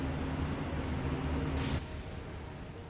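Steady rain in the naval war game War on the Pacific, a dense even hiss that briefly swells with a brighter wash of noise before settling back to a quieter, constant patter.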